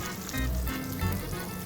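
Salted pasta water hits a hot pan and sizzles, a close, hissing splash and crackle lasting a moment, with no voices over it.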